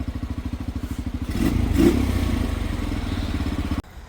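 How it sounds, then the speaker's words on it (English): A cheap, newly restored motorbike engine runs close by, with a steady rapid idle thump that swells into a louder, rougher rev before cutting off abruptly near the end. "The bike is obviously running again, which is amazing"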